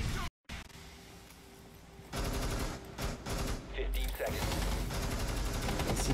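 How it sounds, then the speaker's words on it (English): Gunfire from the video game Rainbow Six crackles in rapid bursts amid dense noise during a college esports match, with a voice talking over the shooting. "Gunfire."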